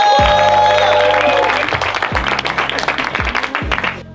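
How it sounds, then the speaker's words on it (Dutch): Audience applause at a Crossing Border 2023 festival show, a loud, dense burst of clapping from the crowd that carries on steadily over a fading musical tone and low thumps. "Geef deze man een extra applaus, omdat hij de eerste is."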